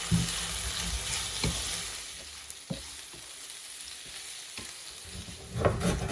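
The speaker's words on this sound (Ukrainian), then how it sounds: "М'ясо розрівнюємо по всій поверхності сковорідки підсмажуємо його і потім можна перемішувати." Meat frying in a skillet for Polish bigos with sauerkraut, a steady broadband sizzle with a few sharp stirring scrapes and clacks spread through, close and alone with no talk.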